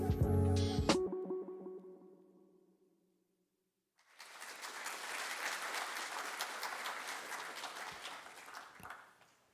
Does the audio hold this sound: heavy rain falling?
no